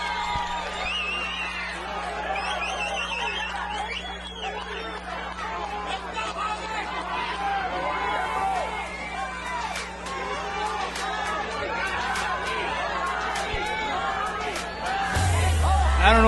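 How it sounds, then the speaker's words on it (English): A boxing arena crowd roars after a knockdown in the Cruz vs Carrera fight, a dense, steady wall of yelling and babble that stays loud throughout without pause. "the crowd goes wild"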